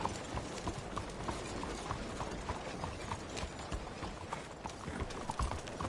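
Horse hooves clip-clop steadily at a walking pace on a road in the Red Dead Redemption 2 video game, a continuous moderate rhythm over faint background ambience.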